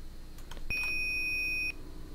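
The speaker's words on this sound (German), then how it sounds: "Jetzt piepst das Ding nochmal." Locomotive warning beep in Train Simulator 2017: a single steady electronic tone lasting about a second, loud and close, preceded by faint clicks, with no talking.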